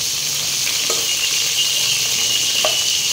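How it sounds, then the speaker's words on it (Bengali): Three large prawns fry in hot oil, spaced apart in the pan, a loud, steady, bright hiss of sizzling that fills the whole stretch, with a couple of faint squeaks over it and no talking. "একসাথে বেশি মাছ আমি ভাজবো না, একটু স্পেস নিয়ে নিয়ে ভাজবো।"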